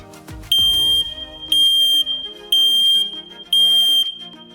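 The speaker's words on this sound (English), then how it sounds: "And that was the propane alarm pattern." An RV Safe propane alarm runs its test pattern: four loud, evenly spaced high-pitched beeps about a second apart, with lower tones between them.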